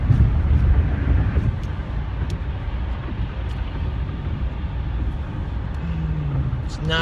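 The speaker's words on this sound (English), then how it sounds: "98 Buick LeSabre, cruising down the road, 65" A 1998 Buick LeSabre cruises on I-96 East near Detroit at 65 mph with a steady low road and engine rumble inside the cabin, heavy throughout, a brief low tone near the end.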